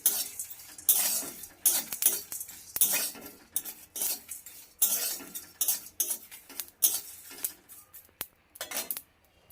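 A spoon stirs cumin, black pepper and torn bay leaf in a pan on a low gas flame, with irregular metallic scrapes and clinks close by and no talking.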